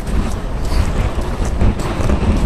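Strong wind buffets the microphone with a roaring, gusty rush, mixed with water and engine rumble from a small fishing boat out on choppy sea.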